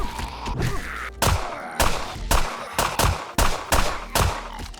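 A gun in the survival game 7 Days To Die fires repeatedly, about eight sharp, loud shots at a steady, slightly uneven pace, each with a brief boomy tail.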